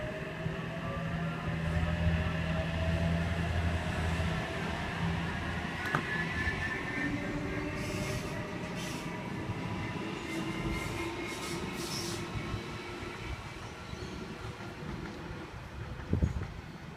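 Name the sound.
Sydney Waratah train passing through station platform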